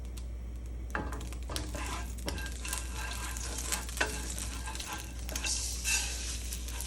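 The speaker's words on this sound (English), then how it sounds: "Now we fry the rice." Rice fries in oil in a pan for Chinese savory pumpkin rice. Steady sizzling runs throughout, with scattered scrapes and clicks from stirring over a low background hum.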